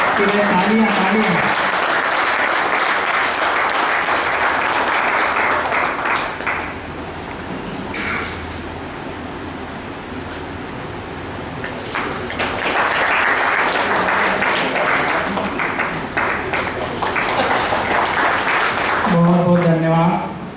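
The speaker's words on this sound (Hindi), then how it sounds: "तालियां तालियां।" An audience applauds at an award ceremony held during a 2023 wage agreement event in Mandideep, with two long bursts of clapping under a steady hubbub. A voice speaks briefly near the start and again at the end.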